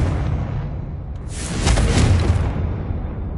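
A Confringo fire spell blasts in Hogwarts Legacy, a sudden whooshing burst swelling into a rumbling boom that fades back into the low game ambience.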